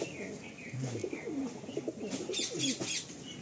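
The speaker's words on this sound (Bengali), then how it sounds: "এটা নর পায়রা।" Male Kalanka pigeon cooing in repeated soft low coos, close by, with faint chirps from other birds in the background.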